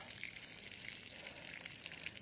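Water is poured over a newly planted durian seedling in a farm plot, making a faint, steady splashing and pattering at a distance.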